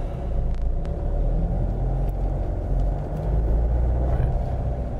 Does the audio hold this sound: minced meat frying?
no